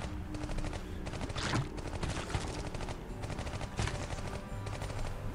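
Rapid automatic gunfire from the mobile strategy game Iron Marines rattles in dense, sustained bursts, with overlapping volleys and occasional heavier blasts throughout.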